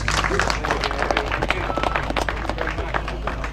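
Applause from a crowd at an outdoor fishing lure, fly and outdoors expo in Fernvale, Queensland, a steady dense patter of clapping filling the whole moment with some voices mixed in.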